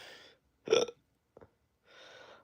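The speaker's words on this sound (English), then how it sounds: "I got the hiccups" A single sharp hiccup jolts out between soft breaths, a short abrupt burst followed by a tiny click and a quiet exhale, close and isolated.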